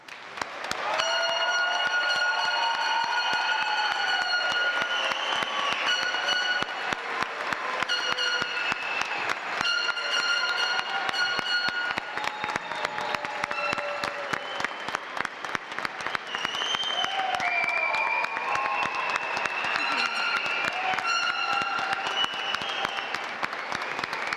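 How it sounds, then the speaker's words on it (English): Commencement audience applauding winter graduates, sustained dense clapping from a large crowd throughout, with loud cheering whoops and shouts rising over it. "Everyone, please join with me as we honor all graduates with a well-deserved round of applause."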